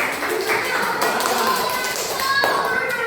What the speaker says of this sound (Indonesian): Beri tepuk tangan untuk Manuk